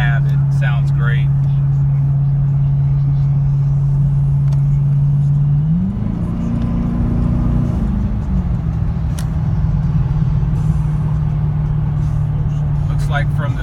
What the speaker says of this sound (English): Not sure how the supercharger whine picks up on the iPhone, but I can tell you in the cab it sounds great.